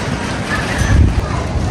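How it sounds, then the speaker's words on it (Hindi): Cold wind gusts in a steady, roaring rush that buffets the microphone outdoors on a stormy May day in Lahore, loud and unbroken with no talk. "ठंडी हवा चल रही है"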